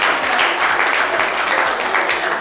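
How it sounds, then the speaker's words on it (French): A studio audience on a French talk show applauds a guest, a steady, continuous round of clapping that holds at an even level throughout. "applaudissez-la"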